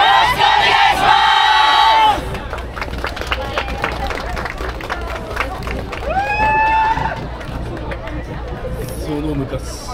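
An outdoor crowd at the Suzuka Festival 2024 cheers and claps for the dance team Nami Sakura, with loud shouted calls at the start and again midway over continuous rhythmic clapping and crowd noise.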